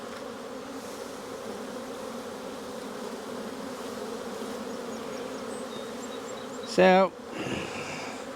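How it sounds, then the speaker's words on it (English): Bees hum steadily in an open single brood chamber hive box during an April inspection, a close, continuous buzz, with a brief scraping clatter near the end and a short spoken word. "We got definitely a box of bees here."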